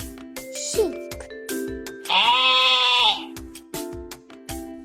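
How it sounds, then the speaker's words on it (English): A sheep gives one clear, wavering bleat in the middle, set against a light background of repeated chime-like tones and soft taps. "Sheep. Sheep."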